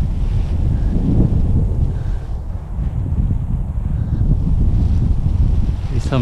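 Gusty Santa Ana wind of over 20 mph buffets the microphone at a local park while kiting, a loud continuous low roar that surges and eases throughout, with no one talking.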